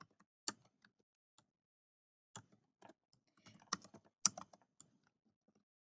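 Scattered keystrokes on a computer keyboard tick and clack in small irregular clusters with quiet gaps between, close and fairly faint, while Python code is typed.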